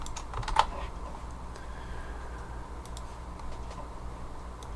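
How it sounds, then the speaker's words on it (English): Keys on a computer keyboard tap out a quiet, irregular run of clicks at close range, with one louder keystroke near the start, as someone types while working through a programming assignment. "And then we just gotta keep typing"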